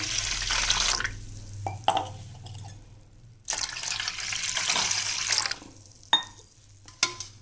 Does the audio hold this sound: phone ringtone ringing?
no